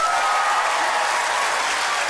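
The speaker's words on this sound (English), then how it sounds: "Applaud if you think it's in box number 2." Sustained crowd applause from a live stage-show audience casting a vote, many hands clapping in a thick, uniform roar that holds steady throughout.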